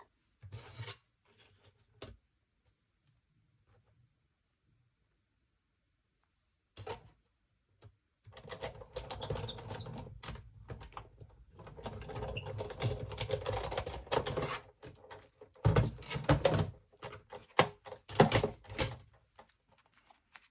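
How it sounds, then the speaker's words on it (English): A die cutting machine cranks through a card piece for a unicorn rainbow slider birthday card, giving a run of close rasping, clicking mechanical rolls and rubs that start after a quiet pause and continue in uneven bursts. "And then die cut out this piece."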